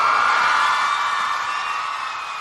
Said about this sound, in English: I can even make the crowd scream.